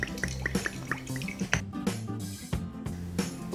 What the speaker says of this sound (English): Then I add some oil.